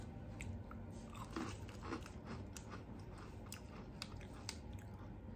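Someone bites and chews crunchy chocolate chip brownie brittle bought at Dollar Tree, giving faint, close crackling crunches that repeat over several seconds with no talking.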